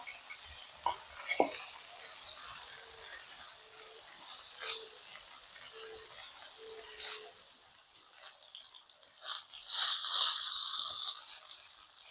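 Peppers frying in hot oil in a home kitchen: a faint, steady sizzle with occasional stirring scrapes and utensil clinks, swelling into a brighter hiss near the end.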